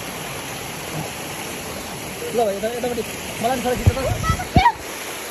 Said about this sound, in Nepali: यस्तो कलकल आउँदो पानी छ, झर्ना छ